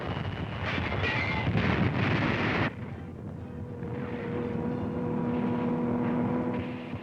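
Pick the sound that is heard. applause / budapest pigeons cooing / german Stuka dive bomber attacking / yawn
german Stuka dive bomber attacking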